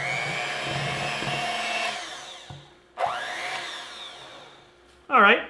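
An electric hand mixer with beaters whirs steadily through red velvet cake batter, loud and close, then stops. A couple of brief knocks and a clatter follow, likely the beaters being handled.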